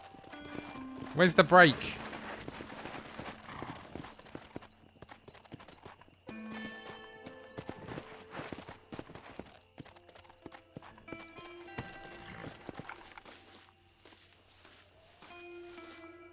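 Horse hooves clip-clopping in the video game Red Dead Redemption 2, uneven footfalls at varying pace mixed with a whinny, game music tones and someone talking.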